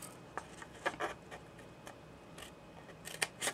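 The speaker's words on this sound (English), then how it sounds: "we need to just snip them on the score lines so it makes it easier for our box to fold." Scissors snip cardboard along score lines for a folding matchbox, a handful of short, crisp, fairly faint cuts spaced irregularly over a quiet background.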